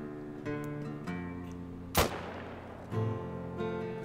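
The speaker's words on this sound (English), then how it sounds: "we got a good shot on him with the Mosin just in time" A single sharp, loud Mosin rifle shot fired at an axis deer in theHunter Call of the Wild, cracking out over a quiet tonal game backdrop and trailing into a fading echo.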